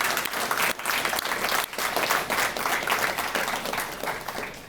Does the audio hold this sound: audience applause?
yes